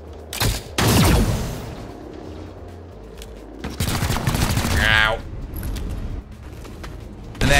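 Gunfire bursts in XCOM Chimera Squad as the squad shoots a codex, with sharp loud volleys near the start and again mid-clip, separated by game ambience and a shimmering effect sound.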